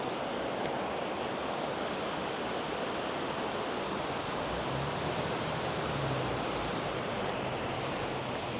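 The Nolichucky River near Hot Springs, North Carolina, on the Appalachian Trail, rushes as a steady, loud, broadband wash of flowing water filling the whole stretch without a break, with no voices.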